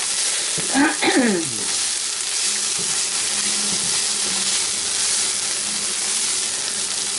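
Onions frying in a pan for a Brazilian chicken pie, with a steady broad sizzle throughout and a brief burst of stirring and scraping early on as they are turned over, no talking.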